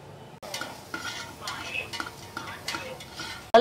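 Sliced onions with turmeric stirred and frying in a pan for a home-style potato saagu, a soft sizzle under repeated scraping and clinking strokes of a spoon against the pan, close by, with no talking.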